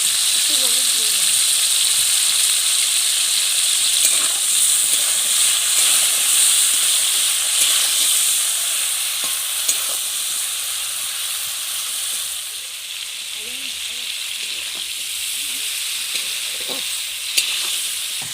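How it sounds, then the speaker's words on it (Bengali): Prawns seasoned with salt and turmeric fry in hot oil for a Bengali prawn dish, giving a steady, close sizzling hiss that fades slightly midway and carries on with occasional pops and spatters. "এবার আমি চিংড়িটা ভেজে নেব।"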